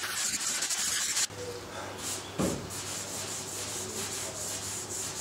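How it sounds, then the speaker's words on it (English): Sandpaper rubs over a primed boot mold, starting with a dense, loud stretch of scratchy strokes, then a pause and a series of rhythmic back-and-forth passes, close up and continuous with no talk. "then I'll use slightly finer sandpaper after that"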